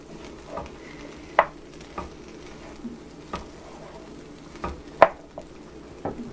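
A utensil stirs spicy rice with shrimp and sausages in a frying pan, giving repeated sharp scrapes and taps over a low sizzle, several distinct knocks spread across the stretch.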